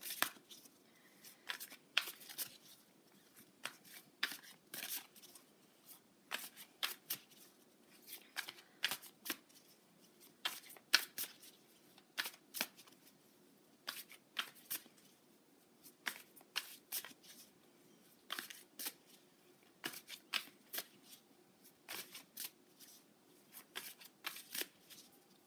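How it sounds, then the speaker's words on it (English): A moon tarot card deck is shuffled by hand for over twenty seconds, a steady run of crisp riffling and snapping bursts at close range, quiet and without speech. "I'm going to pull a card from my moon deck"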